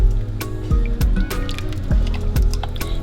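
Rice stirred into liquid in a pot for jollof rice, giving soft wet squishes and sloshes in several slow strokes, close and moderately loud with no talking.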